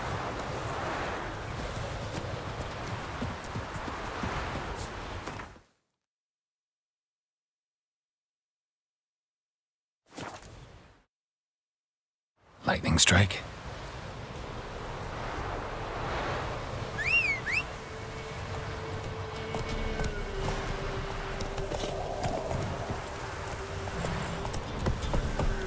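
Horse hooves clip-clopping at a run in The Witcher 3, rhythmic clatter under wind noise, cut by a stretch of silence and then returning with a brief spoken line.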